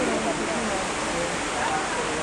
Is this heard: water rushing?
yes